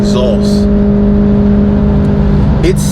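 A BMW M3 V8 fitted with an Auto Couture Motorworks exhaust revs hard, a loud steady engine drone filling the whole moment, with brief whooshing bursts near the start and end.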